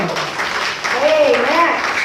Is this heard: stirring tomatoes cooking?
no